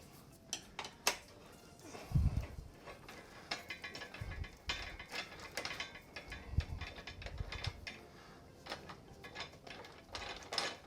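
Clicks of a ratchet working a bolt loose on a Honda CRF300L Rally motorcycle, quick ratcheting bursts with clinks of metal parts and tools, close and fairly quiet.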